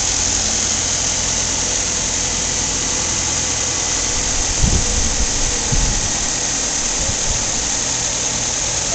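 A 2009 Nissan Altima's 2.5 liter engine runs steadily at an auto service and salvage yard, a loud, even idle hum with a couple of brief thumps near the middle and no talking.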